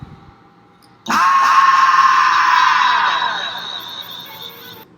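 A loud, sustained scream with a phase-shifted, constant echo bursts in suddenly after a quiet moment, holds steady for several seconds, then slowly fades.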